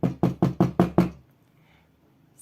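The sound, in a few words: knocking on a door, sound effect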